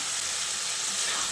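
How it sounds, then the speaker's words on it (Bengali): Fried potatoes and pointed gourd dropped into a hot spice mix with kasuri methi sizzle steadily, a close, even hiss of frying oil with no voices. "এবার আমি এর মধ্যে ভেজে রাখা আলু আর পটলটা দিয়ে দিলাম"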